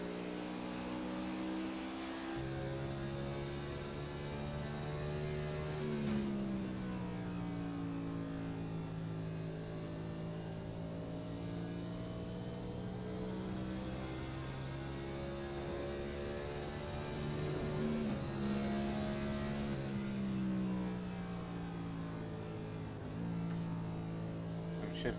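Race car engine in a racing video game droning steadily at high revs, dipping in pitch on downshifts and rising again in stepped shifts, with a faint voice talking underneath.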